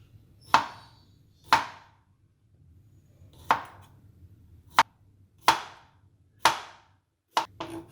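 Knife slicing a cucumber thinly on a chopping board, seven or eight crisp, close chops spaced about a second apart with brief quiet gaps between, no talk.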